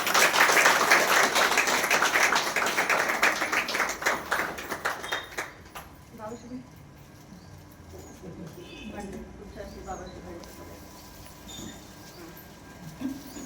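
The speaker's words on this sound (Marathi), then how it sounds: "जरा टाळ्यांचा गजर होऊ दे." An audience at a gathering bursts into loud, dense applause that rings for about five seconds, then thins into scattered claps and fades under quieter room sounds and some talk.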